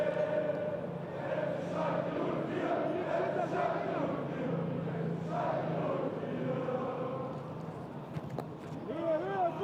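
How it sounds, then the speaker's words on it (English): Schalke supporters fill the Niederrhein Stadium at a U19 Bundesliga semi-final against Borussia Dortmund, a constant distant crowd roar with chanting swells beneath continuous commentary. "Fantastic atmosphere here in the Niederrhein Stadium. Schalke heavy support, a lot of blue shirts in the crowd."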